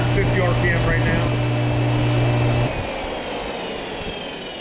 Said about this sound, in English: That sounds like a brand new motor. Starts right up. That's high speed.